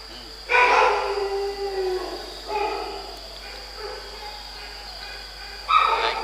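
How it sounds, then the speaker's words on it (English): Dogs howl in long drawn-out wavering tones, one starting loud then tapering and others joining softer, with another loud howl rising at the end; a dry hum runs beneath. "Dogs like to sing."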